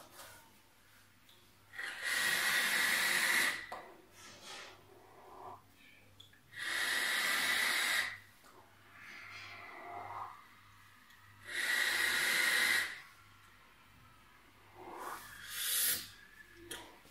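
Inhaling from a SMOK TFV12 sub-ohm vape tank pushed to 160 watts with the airflow half open: four long, loud, airy draws, each lasting about two seconds, separated by quieter pauses.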